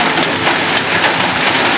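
Heavy rain pouring down in a loud, continuous, dense hiss with no letup and no voices.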